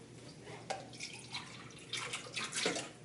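A cup scooping water between two fish tanks, with faint soft splashes and trickles as water is lifted and poured, quiet and close.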